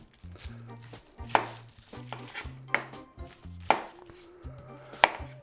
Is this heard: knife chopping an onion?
yes